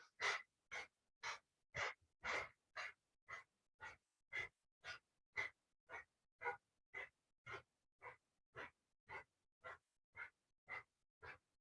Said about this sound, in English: And beginning breath of fire here.